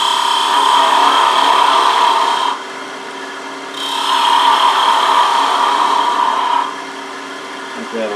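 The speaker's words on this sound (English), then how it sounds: "I'm going to go ahead and turn the pate cross on top of this, just seeing how much I need to bring this down with a skew" A skew chisel cuts a wooden chess king spinning on a lathe, a steady broadband shaving hiss over the motor's hum, easing off twice for a second or so between cuts.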